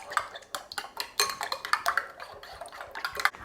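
Salt and harissa paste being mixed in a bowl, a quick run of clinking scrapes and taps of a utensil against the dish, close and fairly quiet, with no talking.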